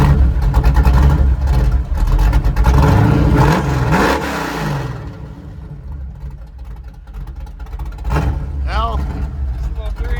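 A truck with a 383 small block V8 starts up and revs hard at a local truck show, a loud, dense roar for the first few seconds that then settles to a steadier idle, with people talking nearby.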